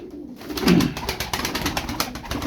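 Tumbler pigeons, a male among them, cooing close by in a steady stream of soft low calls with wing and body noises around them.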